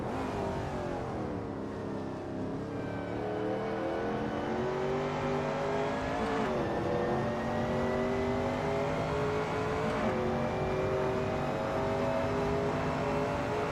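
A Shelby Cobra 351 race car engine drones loud and steady through a racing video game lap at Donington Park, its pitch climbing through the gears with brief drops at each shift.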